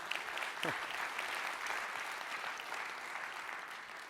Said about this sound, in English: Round of applause for the community team.